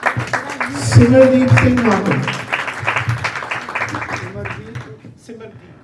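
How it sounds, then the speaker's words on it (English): Crowd applause greets the next participant at a Punjabi declamation contest, a broad, continuous patter of clapping running beneath a loud amplified voice announcing over it. "please give a big round of applause for next participant"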